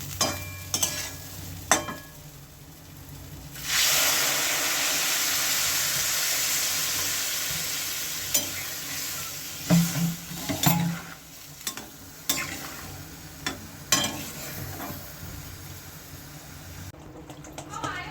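Water is poured into a pan of sautéed masala for a Bengali muri ghonto with rohu fish head and Gobindobhog rice. The low frying sizzle turns to a loud, rushing hiss for several seconds, then settles under scattered stirring clatter.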